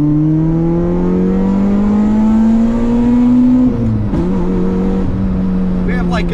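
A race car in Assetto Corsa climbs through the gears, its loud engine tone rising steadily and then dropping sharply at a shift before it climbs again, with a brief crackle at the change.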